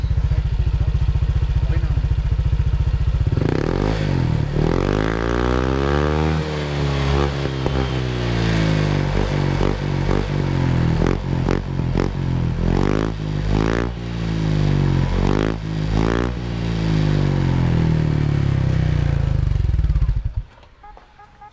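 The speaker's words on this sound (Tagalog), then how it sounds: "pakinggan natin yung tunog kapag nakabirit siya no kumbaga naka high rev tayo" A motorcycle fitted with a silent killer exhaust pipe revs high and hard, a loud, close, sustained roar rising and falling through repeated throttle blips before cutting off abruptly at the end.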